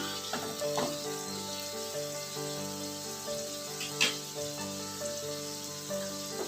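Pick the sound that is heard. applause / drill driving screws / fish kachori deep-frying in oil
fish kachori deep-frying in oil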